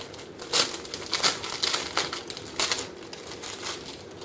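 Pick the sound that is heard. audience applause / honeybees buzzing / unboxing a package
unboxing a package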